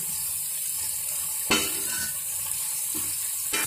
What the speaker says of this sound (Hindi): प्याज भी डाल दिए हैं और प्याज भी फ्राई हो जाएंगे। तीनों चीज़ों को साथ में ही फ्राई कर लेंगे हम।